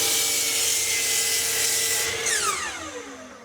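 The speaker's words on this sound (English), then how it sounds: "And I'll do that here on the miter saw, then I'll flip the pieces around and cut the other end." Miter saw trimming the ends of wooden pieces for a bathroom vanity cabinet, a loud steady blade whine cutting through the wood, then spinning down with a falling pitch as the cut ends.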